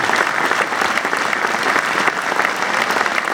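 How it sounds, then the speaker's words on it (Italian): Steady, dense applause from a large audience filling an arena after a joint performance by two Alpini choirs at an evening choir concert, continuous and loud throughout with no pauses. "facciamo un altro applauso a tutti i due cori che sono stati eccezionali"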